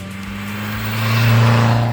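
A race-tuned Renault Super 5 GT Turbo with enlarged intercooler, silicone hoses, Group N exhaust and stock turbo making 148 hp idles steadily, then its engine note rises in a smooth rev before easing, heard up close without talk.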